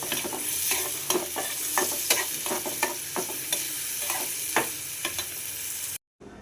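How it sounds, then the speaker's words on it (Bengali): Onions fry in plenty of oil in a wok, crackling loudly and close while a utensil stirs and scrapes in a fairly regular rhythm, then the sound cuts off abruptly. "একটা কড়াইতে বেশি করে তেল দিয়ে পেঁয়াজ দিয়ে দিলাম এটাকে সুন্দর করে লাল লাল করে ভেজে"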